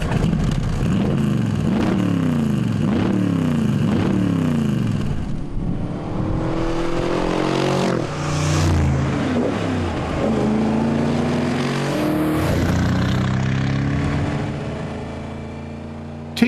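A Bizzarini two-seater sports car with a full-blooded, rear-mounted V8 revs hard through repeated rising sweeps, then pulls through gear changes, loud and close with a ferocious, racing edge.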